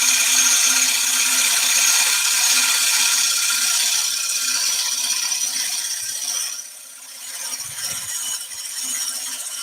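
A wood lathe spins a bowl while a tool makes finishing cuts, giving a steady close hiss and scrape over a low motor hum, which eases briefly near the end before picking up again.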